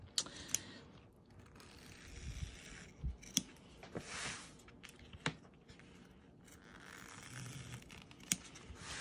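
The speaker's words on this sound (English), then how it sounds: "applique scissors" Several crisp snips of sharp applique scissors cutting cloth, spaced irregularly with quiet rustling of fabric between them, close and fairly faint.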